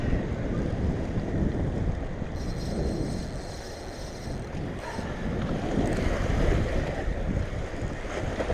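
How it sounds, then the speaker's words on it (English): Fast river water rushing toward the dam at the Truman Lake spillway: a continuous loud broadband roar mixed with gusting wind buffeting the microphone and a faint high whine, with no voices. "At this point, you could see that the water was really moving faster toward the dam."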